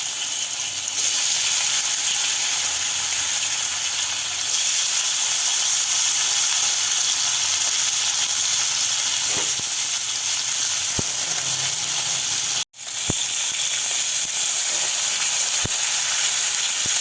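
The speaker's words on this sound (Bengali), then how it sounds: "মাছগুলো একে একে এর মধ্যে দিয়ে দেবো।" Fish pieces slide one by one into very hot salted oil, giving a steady, fairly loud frying sizzle with faint crackles throughout, broken by one sharp clatter near the end.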